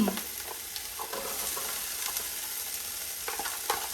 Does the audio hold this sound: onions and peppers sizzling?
yes